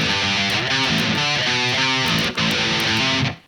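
A loud distorted electric guitar riff churns through quick, choppy note changes with a brief dip near the end before fading out.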